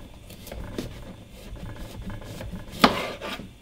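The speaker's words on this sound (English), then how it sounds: "So I'm going to chop the stem off." Knife cutting the stem off a whole pumpkin, several rough scraping and rasping strokes with one sharper crunch near the end, close and fairly quiet with no talk.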